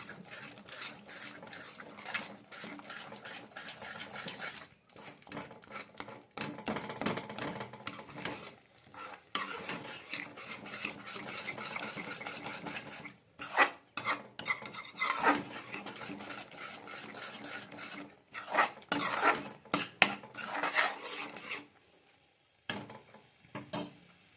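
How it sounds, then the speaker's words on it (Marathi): Raw egg is stirred into egg curry gravy in a pan, producing irregular rasping and scraping strokes of a utensil against the pan that come in uneven bursts over about twenty seconds, with no talking. "आता आपण जे कच्चं अंड घेतलेलं ते सुद्धा ह्यातच टाकून घ्यायचं ग्रेव्हीमध्ये आणि ते पूर्ण मिक्स करून घ्यायचं ह्या ग्रेव्हीतच"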